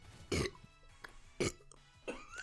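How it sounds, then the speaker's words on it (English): Two distinct, fairly loud burps, about a second apart, follow a chugged can of White Claw hard seltzer, each a short throaty rumble with faint noises between them. "Give me a burp."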